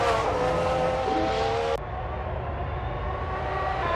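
A Formula 1 car pushes hard on a lap during pre-season testing, its loud high engine note whining steadily before cutting sharply lower partway through, with a continuous roar and no talk.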